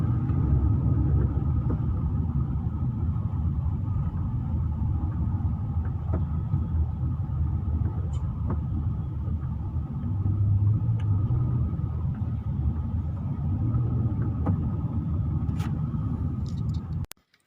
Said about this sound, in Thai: วันศุกร์แห่งชาติ ของคนกรุงเทพ รถก็จะเยอะประมาณนี้นะครับ